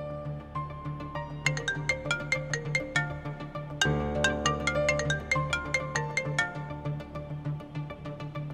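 A mobile phone ringtone plays alone and fairly loud, a repeating electronic melody of plucked, bell-like notes over a sustained low pad, cycling through its tune several times.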